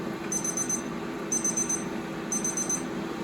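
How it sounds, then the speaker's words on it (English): An HYSapientia air fryer beeping after cooking beer-battered haddock and chips, three evenly spaced bursts of rapid high electronic beeps about a second apart over low kitchen hum. "this is just beeping constantly"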